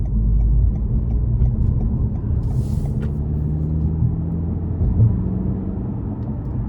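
A 2024 Toyota Camry XSE with the 2.5-litre four-cylinder, accelerating in sport mode onto an interstate, a steady low engine drone and road rumble heard from inside the cabin, without talk.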